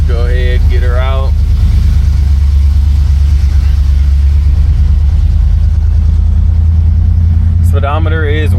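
A 1969 Buick Skylark's 350 V8 rumbles loud and deep in a steady, throbbing drone close by, while a person talks briefly at the start and again at the end.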